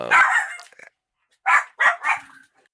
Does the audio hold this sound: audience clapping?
no